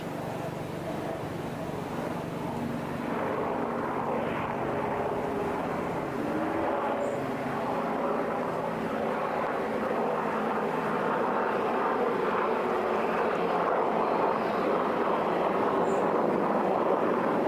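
A steady, distant roar of Apache attack helicopters passing high overhead above the clouds at Wattisham Airfield, droning continuously and growing slightly louder toward the end.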